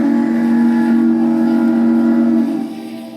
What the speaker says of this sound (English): 6988 has 2 variations with 2 different whistles, an Illinois Central 3-chime